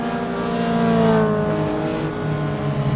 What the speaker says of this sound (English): it's all because of that great engine sound.